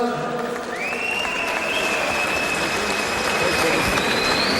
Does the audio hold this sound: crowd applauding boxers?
yes